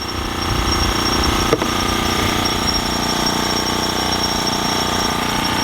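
A small Honda four-stroke engine powers a brand-new Stinger Go Barrow gas wheelbarrow, running at a steady idle-like drone with a faint high whine and one brief clunk partway through, loud and continuous with no voices.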